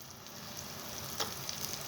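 Chillies frying in hot oil for lemon rice, a faint, even sizzle with a couple of tiny crackles, heard alone for a brief moment.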